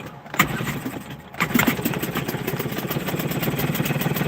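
A Hangkai 6hp two-stroke outboard engine, freshly carb-rebuilt, fires after a short crank, then settles into a fast, buzzing, steady run, close and loud with no talk.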